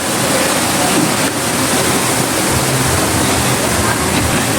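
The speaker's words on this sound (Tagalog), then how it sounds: "may fountain doon, ayun siya." A fountain runs steadily outdoors, its water making a loud, continuous rushing wash that fills the whole stretch without pause.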